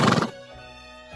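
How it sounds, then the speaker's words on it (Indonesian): A horse gives a brief, loud whinny at close range that cuts off quickly into quiet, in a short dramatised scene. "kudamu masih agak takut"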